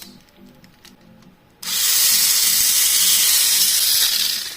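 Small electric motor of a Daxing Mach Frame Mini 4WD model car, a Tamiya copy, switching on after a quieter stretch and whirring steadily at high pitch, close and loud, until the end.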